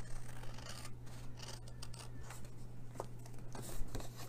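Scissors snipping through paper to make a treat box, several close crisp cuts and rustling over a steady background hum.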